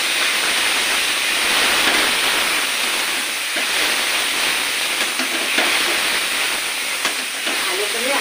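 Chicken frying with ginger, garlic and green chilli in a pan, a steady loud sizzling hiss throughout with faint scraping from stirring.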